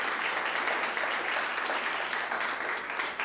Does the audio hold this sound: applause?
yes